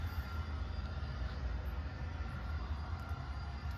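An HO scale model train runs on a home layout with a soft, steady mechanical rumble throughout, quiet and unbroken, with no talk over it.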